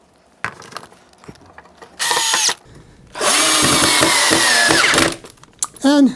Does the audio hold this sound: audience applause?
no